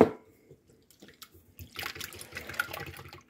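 Skim milk, about a cup, poured into three beaten eggs in a kitchen bowl, a soft liquid splash and trickle building after a quiet start and running steadily for a couple of seconds.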